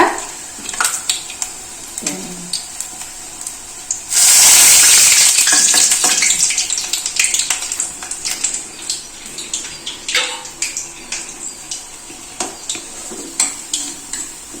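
Urad dal vadas sizzle in hot oil and are flipped, with busy crackling throughout and a sudden loud, hissing surge of frying partway through, then continued bubbling with light utensil taps.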